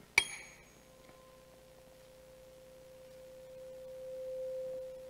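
A single steady tone from a tube that is being lengthened during a live science show, a faint sustained hum held for several seconds after a brief clink at the start, quiet and somewhat distant.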